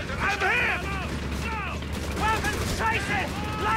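Dense battlefield gunfire in the video game Company of Heroes 3, a 4v4 match against Russian VDV troops, rattles continuously as overlapping bursts and shots over a steady low rumble, with chirping whistles mixed in.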